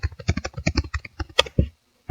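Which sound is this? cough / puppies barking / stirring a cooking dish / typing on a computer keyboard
typing on a computer keyboard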